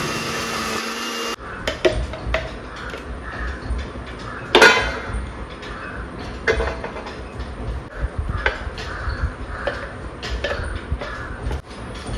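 A mixer grinder blends coriander leaves and spices into a paste, making a continuous, loud whirring drone with a shift in tone early on and a brief knock midway.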